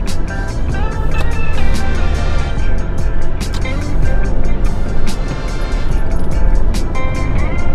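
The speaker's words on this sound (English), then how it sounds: "So right now I am going about 40 miles per hour on a paved road" A car cruises at about 40 mph on a paved road, heard from inside the cabin as a steady, loud, broadband rumble of road and wind noise with some faint rattles and ticks.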